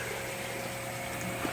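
A pump pushes pond water about six feet up into a trickle shower filter for string algae, a steady, even hum and water rush with no change throughout, fairly loud and with no voices.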